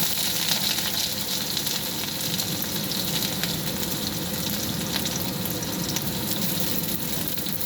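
Chopped onion frying lightly in oil with panch phoron, a steady close hiss and crackle of sizzling that runs evenly throughout with no talking.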